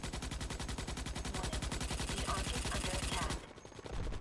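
Rapid, steady automatic gunfire in Starship Troopers: Extermination, aimed at a big bug, a loud continuous stream of evenly spaced shots that stops abruptly near the end, leaving quieter game ambience.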